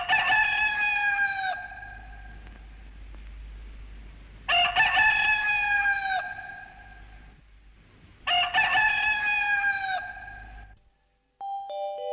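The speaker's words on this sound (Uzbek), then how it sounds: "xo'rozning chillishi bilan quyosh chiqibdi" A rooster crows three times in loud, drawn-out calls spaced a few seconds apart, each ending with a falling tail, heard clearly and alone with nothing else in the background.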